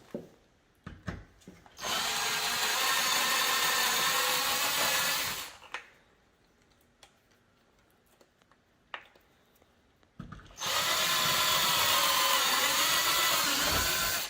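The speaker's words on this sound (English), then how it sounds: "we're just literally going to go ahead and drill the other holes" A power drill bores holes to mount front canards on a 6th generation Chevrolet Camaro, two long steady whirring runs separated by a pause with small clicks and handling noises, loud and close.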